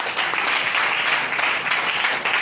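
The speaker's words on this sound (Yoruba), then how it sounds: "Pàtẹ́wọ́ fún Jésù." A church congregation applauds for Jesus, a dense, steady burst of clapping from many hands filling the whole moment without a break.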